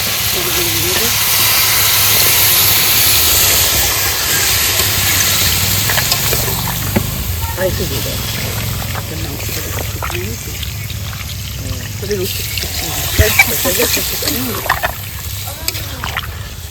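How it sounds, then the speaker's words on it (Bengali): Water poured into a hot pot of methi chicken, a steady hissing pour with rising steam that runs for many seconds, with people talking over it. "জল দেওয়া হবে"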